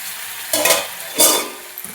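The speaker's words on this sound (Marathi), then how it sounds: "चिकनमध्येच व्यवस्थित छान भाजला पण जातो" Onion and chicken frying in a pan (kadhai) for homemade butter chicken, two sharp sizzling bursts as the pieces are stirred, close and fairly loud over a quieter background crackle.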